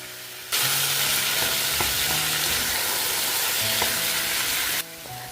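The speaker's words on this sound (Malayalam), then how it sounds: "ഇനി ഇഞ്ചിയും വെളുത്തുള്ളിയും ചതച്ചതിടും ഇനി ഇതെല്ലാം കൂടെ നന്നായിട്ട് വഴണ്ട് പച്ചമണം മുഴുവൻ മാറണം" Crushed ginger, garlic and green chillies sautéing in oil for a Thalassery chicken dum biryani, a loud, even sizzle that starts abruptly, runs for several seconds with faint stirring clinks, then cuts off.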